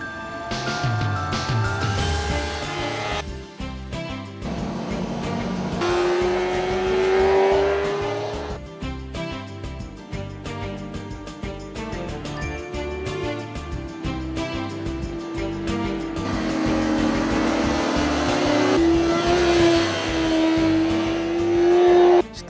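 A Yamaha R6 sport motorcycle howls around a race track, its high-revving engine rising and falling through gear changes, loud and sustained, sweeping closer and away for the whole stretch with no talking.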